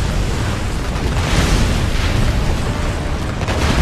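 A sustained, heavy rumbling roar of explosions with dense low-end boom, loud and continuous throughout, as an anti-aircraft gun is destroyed while bombing an enemy base in Ace Combat: Assault Horizon.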